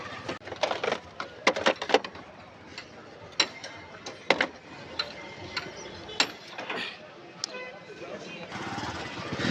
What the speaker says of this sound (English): To remove this cover.